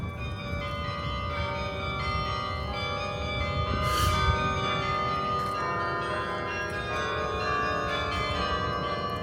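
University of Toronto campus bells ring out in a sustained, resonant chiming that layers overlapping tones, heard alone and moderately loud for several seconds with a brief brighter strike near the middle.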